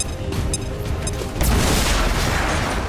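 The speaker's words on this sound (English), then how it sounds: "We'll guarantee the kill with a grenade." A grenade goes off in XCOM 2, a deep boom bursting midway through low rumbling, followed by a sustained loud wash of debris and noise.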